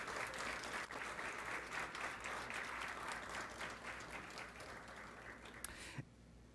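A conference audience gives contractors a big round of applause at a beautification conference, with sustained, dense clapping that holds steady for about six seconds before cutting off abruptly.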